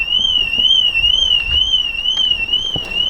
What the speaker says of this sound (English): Right, the alarm's going to go off now.